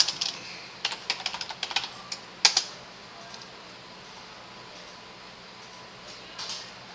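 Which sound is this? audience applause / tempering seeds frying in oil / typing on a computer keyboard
typing on a computer keyboard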